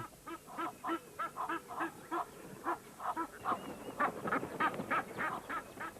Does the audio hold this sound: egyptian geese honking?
yes